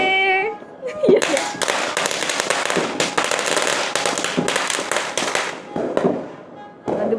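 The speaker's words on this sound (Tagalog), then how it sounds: "Di ba nakikapture lang tayo ng mga paputok sa loob." Firecrackers burst in dense, rapid volleys on New Year's Eve, with loud cracks crowding together for several seconds while voices shout and chatter nearby.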